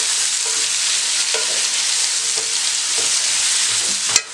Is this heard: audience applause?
no